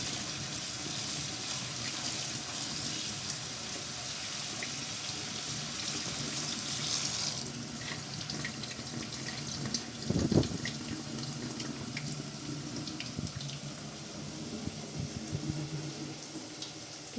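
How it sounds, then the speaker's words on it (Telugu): A kitchen tap runs in a steady stream while gongura leaves are washed under it. The water splashes and gushes continuously, and a brief handling bump is heard partway through. "కొంచెం గోంగూర బాగా వాష్ చేసుకోవాలి."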